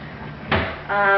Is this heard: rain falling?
no